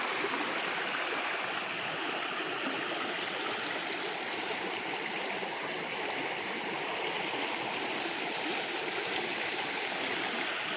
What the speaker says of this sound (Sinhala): මේ වතුර පාර තමයි අරකට කරගිලා යන්නේ